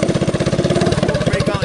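A Bad-Dog 212cc hot rod minibike engine running close by, with a steady rapid low thump of firing pulses throughout, loud and alone.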